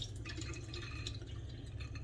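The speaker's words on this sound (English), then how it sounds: "let me rinse it off using my filter faucet right here" Water from a filter faucet runs over tiger nuts being rinsed, a soft continuous trickle with faint dripping and light splashing, quiet and steady with no talking.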